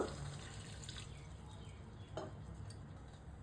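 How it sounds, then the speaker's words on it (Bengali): Water is poured into a pan of cooked spice paste with onion and turmeric, the base for a fish and ridge gourd curry, giving a faint, steady splash with a couple of soft knocks and no talking. "মশলা খুব ভালো করে পাক হয়ে গেছে, এর মধ্যে আমি জল দেব।"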